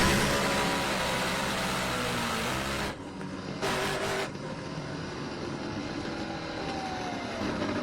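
A Snap-on NHRA Funny Car engine roars loudly, then abruptly cuts out as the car shuts itself off, leaving lower rumbling crowd and track noise with a brief burst of sound afterward.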